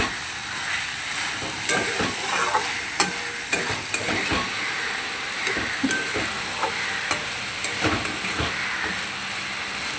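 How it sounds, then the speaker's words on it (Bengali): Prawns are stirred in a pan with raw mustard oil for a Bengali steamed-prawn dish: a continuous sizzle with repeated sharp spatula scrapes and clacks against the pan, close and moderately loud. "নামানোর আগে একটুখানি সর্ষের তেল, কাঁচা সর্ষের তেল দিয়ে দেবো। একটু নাড়িয়ে নেব।"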